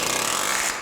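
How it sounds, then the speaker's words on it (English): Palm nailer driving nails into metal joist hangers during a Victorian house restoration, a dense, loud rapid hammering burst lasting under a second before cutting off. "there's nothing like a little palm driver, a little palm nailer like that to make short work"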